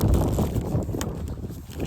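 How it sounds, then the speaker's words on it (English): Wind buffets a microphone outdoors, a heavy low rumbling roar that gusts and eases over a couple of seconds, with no clear speech. "It's quite windy, so I've got to keep everything tight here."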